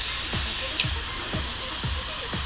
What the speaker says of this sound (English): the Febreze will keep on spraying